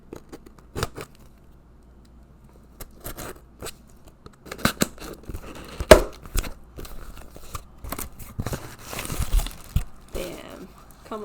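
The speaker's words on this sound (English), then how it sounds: "open this cutting box" A cardboard box of plant cuttings is pried open, with sparse close taps and scrapes giving way to busy crinkling, tearing and rustling of packaging.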